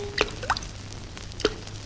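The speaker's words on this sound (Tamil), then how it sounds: "சொட்டு சொட்டு" A few distinct water drips plopping in a quiet space, three separate drops spaced irregularly over a low background hum.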